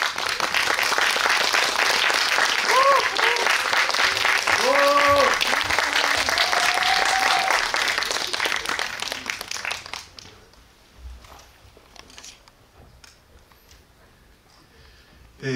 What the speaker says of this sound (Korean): 박수로 두 분을 맞아주시기 바랍니다